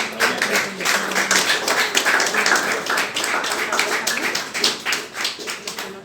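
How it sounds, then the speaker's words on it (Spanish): A church congregation claps at a service, giving applause to the Lord. The clapping is dense and continuous, with individual sharp claps standing out in an irregular rhythm, and it stays fairly loud throughout with no speech. "Un buen aplauso al Señor."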